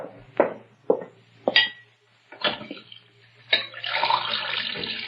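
Kitchen tap turned on to fill a glass of water, a few short clunks and splashes before a steady running stream, close and moderately loud.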